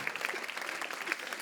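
Comedy club audience applauding in a short, steady burst of many hands clapping, fairly close and even, with faint murmur underneath.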